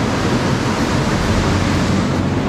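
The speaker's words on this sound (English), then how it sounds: "Ooh, these waves." Ocean waves break on a Sri Lanka shore in a loud, continuous rush of surf, with dense broadband wash and some wind buffeting on the microphone, close and without talk.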